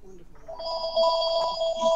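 A telephone rings with a steady electronic trill, starting after a brief moment and continuing close and clear to the end with no speech over it.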